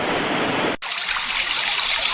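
Rushing water flows steadily at the mouth of the Ganga River below the Gangotri Glacier in the Western Himalayas of Uttarakhand, a continuous close hiss with a brief cut partway through.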